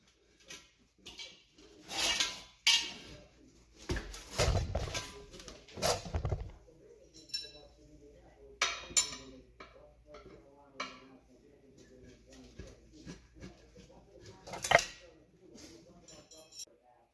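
Three tire spoons levering a car tire onto a rim, with scattered metallic clanks and scrapes in bursts between pauses, and someone talking intermittently over the work.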